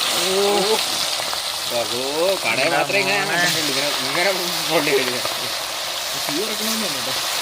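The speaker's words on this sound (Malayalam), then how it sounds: "തിളച്ച എണ്ണ നന്നായിട്ട് തിളച്ചിട്ടുണ്ട്" Chicken fries in well-heated boiling oil, giving a steady bubbling sizzle throughout while a person talks over it for most of the clip.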